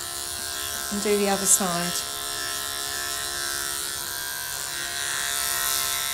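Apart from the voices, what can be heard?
electric clippers grooming a Labradoodle puppy's coat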